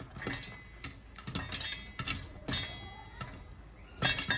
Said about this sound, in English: So here's the process of the popcorn popping.